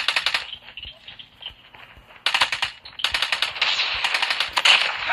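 Rapid bursts of automatic gunfire ring out in a Call of Duty match, sharp and close, with short pauses between volleys and a voice talking underneath.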